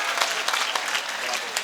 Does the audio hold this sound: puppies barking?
no